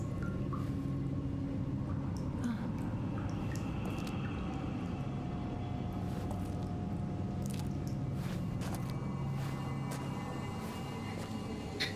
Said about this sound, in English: this is a good moment for me to get some water in my system